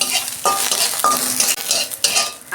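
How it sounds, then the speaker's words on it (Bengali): Curry leaves fry in hot oil with a loud, close crackling sizzle, punctuated by several quick stirring scrapes across the pan, with no voices. "কটা আমি কারি পাতা নিয়েছি, আমি এইটা একটু তেলে ভেজে নিচ্ছি।"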